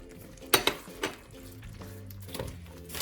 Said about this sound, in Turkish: Böylece de karıştırıyorum.